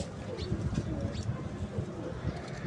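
Pigeons from a breeder pair offered for sale give low, soft coos repeating through the short stretch, close by against a steady background hum.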